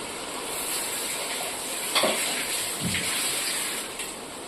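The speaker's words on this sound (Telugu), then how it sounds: "ఈ వాటర్ వేసేసుకున్నానండి." Water poured into a pan of paneer, peas and potato curry, a steady splashing gush lasting several seconds with a couple of brief louder splashes partway through.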